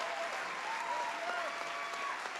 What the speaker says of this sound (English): Please stand as you clap hands for our Dr. Randall